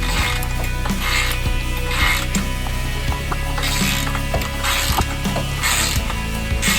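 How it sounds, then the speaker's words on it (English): A ratcheting wrench tightens bolts on a winch bumper for a Jeep Cherokee, giving close, rapid metallic clicking in repeated bursts with brief pauses between strokes, no talking. "Alright, so you can get 2 of those with the ratcheting wrench."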